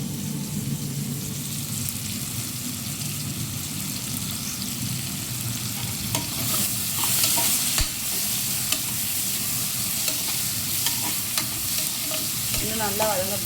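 Onion and tomato sautéing in a pan for a lunch box dish, with a steady close sizzle and frying crackle throughout and occasional stirring scrapes, no talking.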